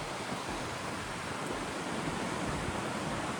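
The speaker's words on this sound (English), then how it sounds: "And you can see the water rushing." Water rushing through Rocky Fork Gorge on a gusty day, a steady broadband roar that stays loud and unbroken throughout, with no voices over it.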